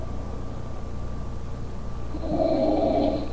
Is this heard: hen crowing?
no